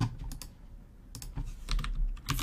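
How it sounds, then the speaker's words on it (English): Rapid typing on a computer keyboard while entering code, with clustered bursts of clicky keystrokes separated by short pauses, close and moderately loud with no talking. "And I'm gonna start typing"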